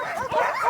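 A sled dog gives short, high whimpering yelps and a yip, close and fairly loud, in a brief burst outdoors.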